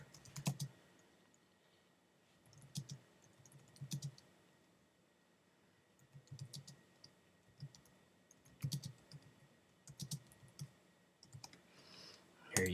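Quiet, close keystrokes on a computer keyboard as quiz questions are typed, coming in short irregular bursts of clicks separated by pauses, with no talking.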